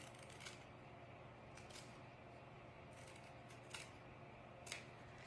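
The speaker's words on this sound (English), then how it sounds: "I'm gonna cut the flower off the backing." Scissors snip a denim and lace fabric flower off its backing, producing a few faint, scattered cuts over a quiet, steady room hum.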